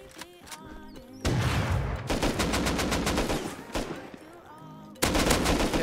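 Gunfire from a double-barrel shotgun, AK and LR in the survival game Rust: dense bursts of rapid automatic shots with a few heavy single blasts, loud and close, broken by short lulls.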